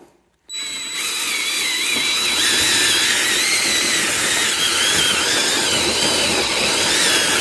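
After a brief quiet moment, a power drill starts and runs continuously, whining and grinding loudly with a wavering high-pitched squeal as it bores through a leather couch.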